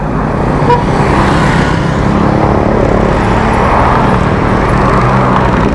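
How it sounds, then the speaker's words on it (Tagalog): A truck passing fast on a road, heard as a loud, close, continuous roar of engine and tyre noise with a steady low rumble and no talk. "Ang bilis ng truck eh."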